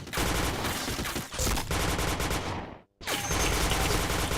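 Rapid automatic gunfire in a video game, with chained headshots, pours out in dense bursts and shots, broken by one short silent gap before another loud volley.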